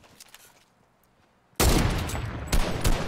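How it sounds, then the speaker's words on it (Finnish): Fortnite video game gunfire: near silence, then a loud sudden burst of rapid shots bursts in about halfway and keeps rattling, swelling again near the end. "täällä on jengi ammuskelemassa"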